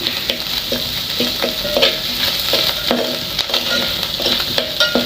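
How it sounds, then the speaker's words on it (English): Onions fry loudly in a pan with a steady sizzle, while a spoon repeatedly scrapes and taps the pan in an irregular stirring rhythm. "So we need to leave our onions to cook completely"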